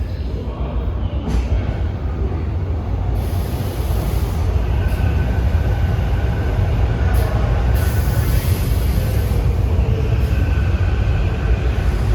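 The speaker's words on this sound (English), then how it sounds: "coming in is the 452 train, the Chestnut Hill West" Silverliner commuter train, the 452 Chestnut Hill West service on the old Pennsylvania Railroad line, rolling steadily into a station with a loud, continuous rumble of wheels and motors and a faint high whine.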